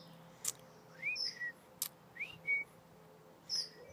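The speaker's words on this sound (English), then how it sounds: "You like that whistle, don't you?" A person whistles a few short, bright notes, some rising and some held, spaced out over a few seconds in a quiet space.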